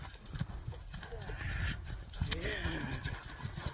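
Horses being ridden or shown in a complete set, hooves clip-clopping close by with irregular steps, a whinny-like call partway through, and people talking over it.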